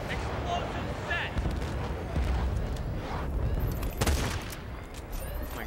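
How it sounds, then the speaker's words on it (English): A video game grenade launcher sets off heavy, rumbling explosions with a sharp crack near the middle, rolling under continuous gunfire and shouting players. "I like the sound the grenade launcher makes"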